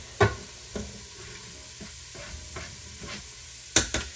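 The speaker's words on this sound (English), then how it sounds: "so we'll go ahead and add the garlic." Minced garlic hits a hot pan while chili cooks, giving a low steady sizzle broken by several sharp scraping stirs of a spoon, two louder clatters near the end.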